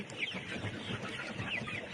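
Chickens cluck softly inside a poultry house, with scattered calls over a faint, continuous murmur of the flock.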